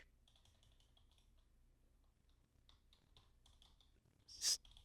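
Quick bursts of keystrokes on a computer keyboard, faint and close, pausing briefly before another run of clicks and a sharper tap near the end.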